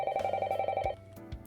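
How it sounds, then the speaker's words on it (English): A telephone rings in the visual novel ONE: Kagayaku Kisetsu e, a bright electronic trill that pulses rapidly then breaks off, close and moderately loud with no speech. "The phone begins to ring."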